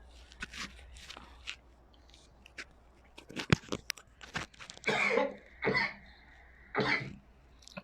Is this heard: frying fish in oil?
no